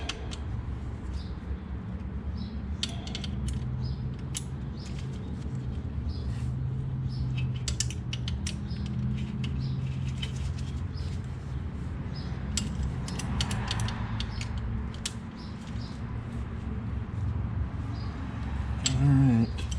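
Hand-tightening a bolt with a ratchet on a McLaren MP4-12C during an oil change: steady ratcheting clicks and creaking mechanical turns run continuously at moderate level, close by, with no talk.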